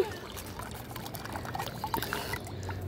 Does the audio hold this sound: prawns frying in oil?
no